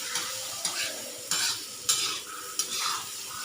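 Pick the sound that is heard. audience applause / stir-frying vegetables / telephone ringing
stir-frying vegetables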